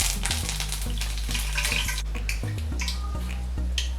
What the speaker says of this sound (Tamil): இது கூட நான் 2 கொத்து கருவேப்பிலையும் பொரிச்சுக்கிறேன்